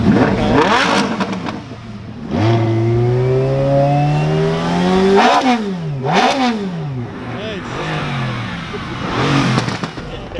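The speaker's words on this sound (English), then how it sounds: "This guy's doing a little rev battle" At a Cars and Coffee meet in San Antonio, a car engine is revved hard in a rev battle: loud rising sweeps, sharp blips that spike and fall back, and a rumbling idle between bursts, close by.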